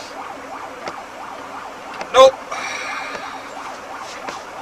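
Wailing ambulance siren as the vehicle crosses a red light at an intersection, heard faintly with repeating rising-falling sweeps behind car cabin noise, with a brief sharp sound and a short spoken word midway.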